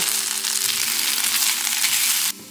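Food fries in a pan with a loud, dense, steady sizzle close up that cuts off abruptly near the end, with no talk.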